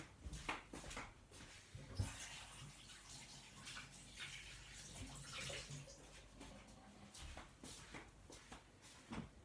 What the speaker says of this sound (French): Je vais laver les mains.